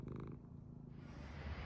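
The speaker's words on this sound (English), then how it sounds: "He's purring." A cat purrs steadily and close up, a low continuous rumbling with a faint brief sound near the start.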